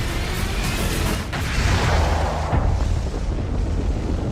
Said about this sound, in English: An enormous explosion occurs